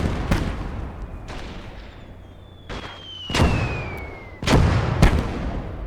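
Mortar fire in the World War II strategy game Call to Arms Gate of Hell, in Dynamic Conquest mode: about six sharp, booming impacts arrive at irregular intervals, with a falling shell whistle midway, over low background rumble and no talk.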